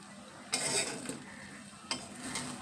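Chicken pulao with rice, potatoes and meat stirred up from the bottom of the pot, giving two close scraping strokes of the spoon against the pot over a low background, with no talking.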